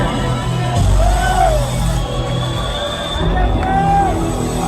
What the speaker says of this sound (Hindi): Shaurya Ma'am के लिए जोरदार तालियां